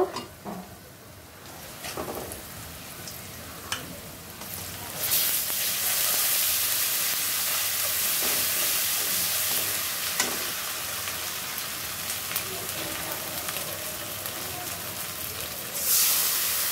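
Onion sizzles steadily in hot oil in a pan with bay leaf, ginger-garlic paste, turmeric and chili powder. The frying hiss is soft at first, then grows loud and continuous with occasional stirring scrapes.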